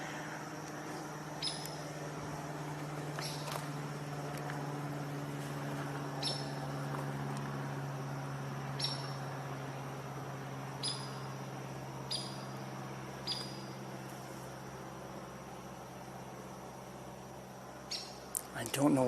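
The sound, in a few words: hairy or downy woodpecker calling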